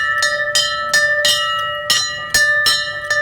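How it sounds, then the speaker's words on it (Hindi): The bright metal bell of an old British-era fire engine in Karachi clangs rapidly and repeatedly, about three strikes per second, ringing loud and close with sustained overtones. "ये घंटा बजा रहे हैं इस वक्त।"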